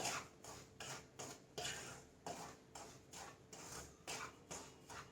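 Semolina (rava) roasting in a pan for rava kesari is stirred with a utensil, producing about ten soft, rhythmic scraping strokes against the metal, quiet and close.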